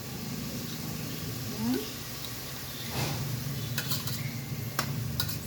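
Egg poured into sautéed bitter gourd in a hot pan, a soft ongoing sizzle with stirring scrapes and a few light clinks, a voice talking briefly over it.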